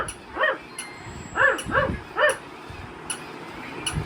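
A pet dog gives a series of short yips and whimpering barks, four or five close calls in quick succession, with sharp clicks and light handling noise in between.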